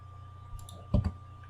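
A computer mouse gives two quick, close clicks in rapid succession over a steady low electrical hum during AutoCAD drafting work.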